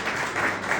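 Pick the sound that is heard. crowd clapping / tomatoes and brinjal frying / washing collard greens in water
crowd clapping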